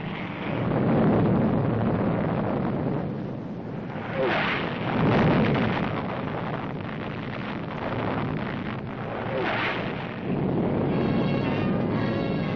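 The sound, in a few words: nuclear test blast striking typical homes, 1955 newsreel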